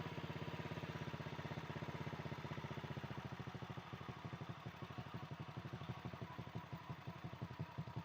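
An older Honda Supra X motorcycle engine is held at high revs, a fast, even, buzzing putter that runs steadily and close up, alone with no talk.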